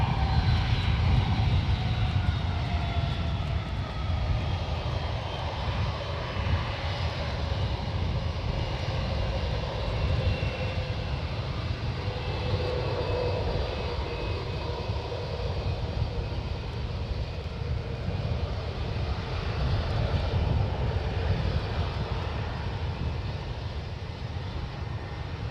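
A United airliner, flight 2820, takes off from San Francisco International Airport: a steady, broad jet engine roar holds throughout at moderate distance, with a faint whining tone gliding slowly downward over it.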